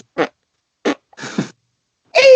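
A string of short, close fart noises, apparently imitated by a voice, comes as three or four separate bursts with silent gaps between them. The last burst is longer and more tonal.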